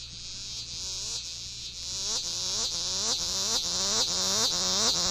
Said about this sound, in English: A cicada whose song pulsates more slowly is Tibicen pruinosa, sometimes called the old scissors grinder.